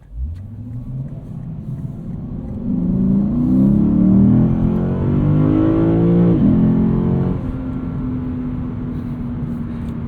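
A 472 hp V8 Lexus IS 500 sport sedan with an 8-speed gearbox accelerates hard in sport mode, its engine rising in a loud climbing growl before settling to a steady drone.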